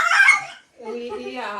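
A dog whimpers in a high, cackling cry that sounds like a chicken, two short bursts separated by a brief pause, close and fairly loud.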